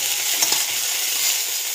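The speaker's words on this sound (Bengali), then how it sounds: "আদাটাও একটু নেড়ে নেব।" Ginger paste and garlic fry in a pan as they are stirred, giving a steady, bright sizzle throughout with a few soft scraping bumps from the stirring.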